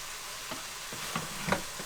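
Beef and broccoli stir-frying in a pan over heat, a steady sizzle broken by several scraping stirs of the spatula, close and moderately loud with no talking.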